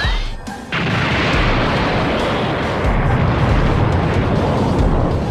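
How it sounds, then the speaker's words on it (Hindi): A huge explosion in a Dragon Ball anime scene erupts after a brief sharp impact and rolls on as a loud, sustained roaring blast that fills the rest of the clip. "वहां पर बहुत बड़ा धमाका होता है"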